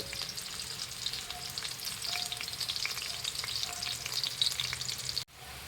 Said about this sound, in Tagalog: Gisa tayo ng gulay.